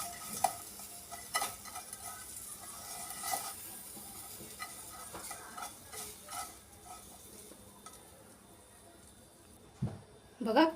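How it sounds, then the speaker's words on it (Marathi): Sugar caramelizing in a pan for paneer kheer gives a soft sizzle under repeated spoon scrapes and clinks against the pan, with a louder clatter near the end. "या साखरेला आपल्याला कॅरमलाइज करून घ्यायचं आहे।"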